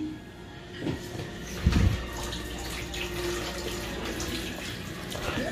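Tap water runs steadily into a container holding frozen cheese being thawed, a constant splashing hiss with a brief louder clatter near the start, close by in a kitchen.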